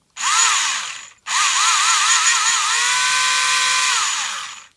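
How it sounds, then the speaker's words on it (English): A small handheld hobby drill powered by two AA batteries whirs loudly and close, a brief burst followed by a short pause, then a longer steady high-pitched motor whine that wavers slightly in speed. "that's the little handy drill. It is actually powered by 2 AA batteries"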